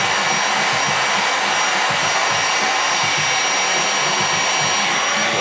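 A hot air blower heats a speaker cone, producing a loud, steady rushing whoosh of fan noise that runs continuously without a break.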